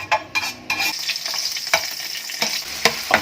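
Food sizzling in a frying pan as it is stirred during home cooking: constant bright crackle and hiss with occasional scraping knocks from the utensil, close up and without speech.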